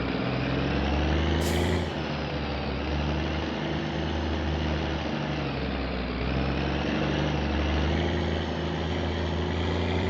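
Septic truck engine in the game My Winter Car, low range engaged, a loud steady low-pitched drone with a deep rumble and a brief hissing burst early on, alone with no talk.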